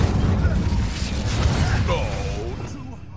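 A fiery Incendio spell blast from the Hogwarts Legacy video game, a loud dense roar of rumbling, crackling energy that holds steady for a few seconds before thinning out as a whooshing tail, with game voices faintly beneath.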